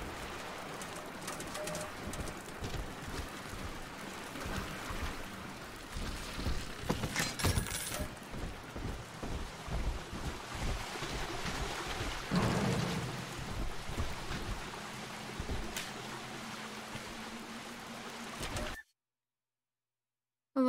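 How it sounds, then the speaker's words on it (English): Thunderstorm with steady heavy rain and rolling thunder in BioShock 2, a broad continuous wash with a louder crack near the middle, cutting to silence near the end. "Electric storm."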